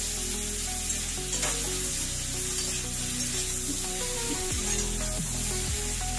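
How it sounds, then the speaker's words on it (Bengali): Paneer coated in salt and Kashmiri chili powder fries in a kadhai with a steady, close sizzle and occasional stirring scrapes, no voices over it. "ভালো করে ভেজে ওই লবণ আর কাশ্মীরি লঙ্কার গুঁড়ো দিয়ে মাখা পনিরটা দিয়ে দিলাম"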